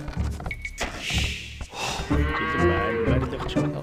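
Sheep bleating in an Age of Empires II game, several short animal calls over game music and sound effects, with a narrator talking throughout.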